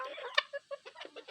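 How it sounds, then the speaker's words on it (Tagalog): Native chickens on a Philippine farm and campsite give short, close clucks with one sharper squawk, in an irregular run of separate calls with brief gaps between them. "Native chicken."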